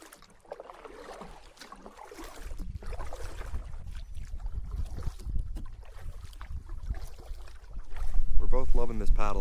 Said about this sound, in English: loving this paddle up from Joe Lake.